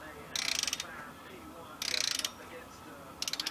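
A ratchet tightens bolts during clutch work on a Corvette, sounding as three quick bursts of rapid metallic clicking with short pauses between them, close and clear.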